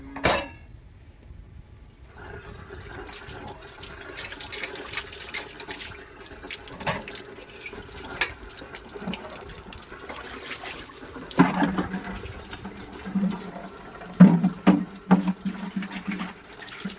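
Water being filled at home, a steady running splash that starts after a short quiet opening and continues throughout, with occasional louder knocks and sloshes toward the end, close by and without talking.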